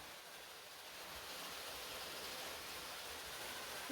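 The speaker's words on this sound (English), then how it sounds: "And you can hear the waterfall from this water feature." Steady rushing splash of a small waterfall in a luxury home's water feature near the owner's suite in Kailua-Kona, a continuous broadband wash of falling water, even and unbroken throughout with no talk.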